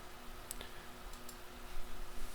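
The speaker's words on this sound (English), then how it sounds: "We'll go ahead and click OK there" Several sharp, quiet mouse clicks on OK and Apply in a firewall settings window, spaced out over a low steady hum with no talking.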